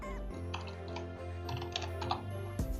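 Quick tapping on a computer keyboard as a command is typed, a run of light, close, uneven clicks against a quiet background with a steady low hum.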